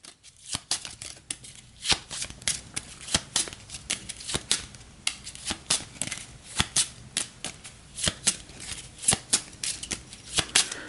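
A deck of cards is shuffled for the Gaia Project board game, giving a run of crisp, close riffling and snapping bursts that repeat at an uneven pace, with no talk over it.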